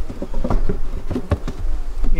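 Honeybees buzz around a hive during a swarm-control split, a continuous droning hum with sharper passes of individual bees flying close, steady and fairly loud throughout.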